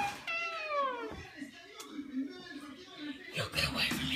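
A cat meows in the game Mario's Night at Freddy's: one clear, drawn-out meow that falls in pitch near the start. Someone talks over and around it, and a burst of louder noise follows near the end.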